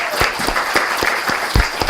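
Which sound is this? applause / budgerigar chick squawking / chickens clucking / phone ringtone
applause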